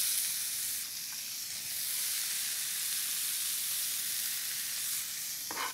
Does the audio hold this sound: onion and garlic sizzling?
yes